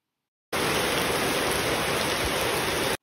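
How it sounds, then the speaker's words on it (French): Rain falls steadily at the end of the day during a championship week, giving a continuous hiss that starts abruptly, holds even and then cuts off, with no voices. "cette journée se termine avec de la pluie"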